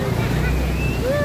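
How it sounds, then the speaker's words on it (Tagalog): A motorboat drones steadily over water and wind off Anawangin Island, Zambales, with rumbling low noise throughout and a faint higher whine drifting in and out. "Ito na yung aming sasakyan na bangka."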